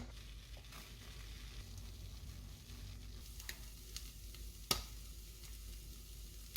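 Marinated eel sizzles as it grills in a pan for a home-cooked lunchbox, a faint, steady frying hiss with occasional soft clicks and stirring, no voices.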